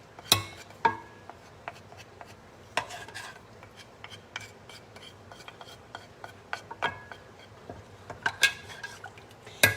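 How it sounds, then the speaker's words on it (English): A spoon stirs and scrapes chicken enchilada sauce in a pot over low heat, with scattered metallic clinks and taps against the pot's sides and a soft rubbing scrape between them, close and fairly quiet. "I'm going to stir this until it gets a little thicker"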